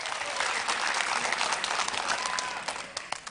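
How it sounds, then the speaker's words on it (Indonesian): Supporters at a regency head candidates' debate in Tana Tidung clap for all the candidate pairs, a loud, lively roll of many hands that holds steady and then tapers off into scattered claps near the end. "Berikan tepuk tangan yang paling meriah untuk semua pasangan calon."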